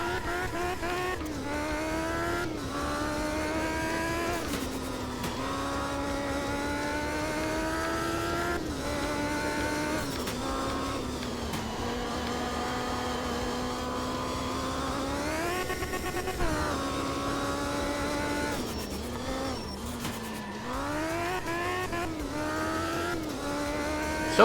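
In the racing game Art of Rally, a rally car engine drones loudly and continuously, climbing and dipping in pitch as it shifts gears, with occasional revs and light tire squeal throughout.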